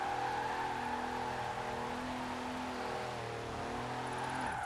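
A diesel drift car in the racing game Forza Horizon 4 held at full throttle, its engine droning loud and steady with layered harmonics that dip and climb as it shifts.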